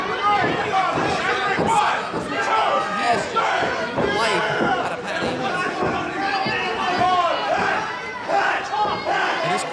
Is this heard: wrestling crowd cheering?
yes